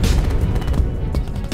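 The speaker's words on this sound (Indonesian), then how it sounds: "Sekutu pun membalasnya dengan tembakan meriam." Naval cannon fire from a World War II Pacific sea battle near Guadalcanal: a loud, dense, continuous roar of overlapping booms and blasts that fills the whole moment with no voices.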